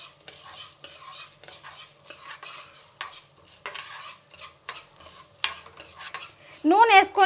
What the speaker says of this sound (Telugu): ఇక్కడ నేను నూనె వేసుకొని బాగా వేయించుకుంటున్నాను